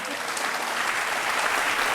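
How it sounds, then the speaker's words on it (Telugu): Steady, dense applause from a television studio audience on a courtroom-style interview show featuring boxer Mary Kom, continuous and even from start to finish. "చప్పట్లు చప్పట్లు కొట్టండి."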